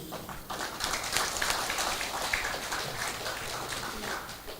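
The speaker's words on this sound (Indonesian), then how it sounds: "Ini tepuk tangan dan aplaus dulu." Audience applause at a graduation ceremony in Meranti, a steady wash of many hands clapping across the hall for several seconds under faint background voices.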